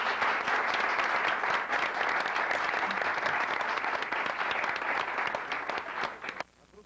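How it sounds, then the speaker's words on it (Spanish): An audience at a folk music show applauds in a dense, continuous burst of clapping that holds steady and then fades out abruptly near the end. "Vuelvo a pedir un aplauso como lo pedí hace unos días"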